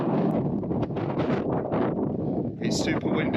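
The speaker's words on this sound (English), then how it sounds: "It's super windy, so I hope the audio's alright." Strong wind on a snowy winter hilltop in the Peak District buffets the microphone in loud, continuous roaring gusts, with a brief higher rustle near the end.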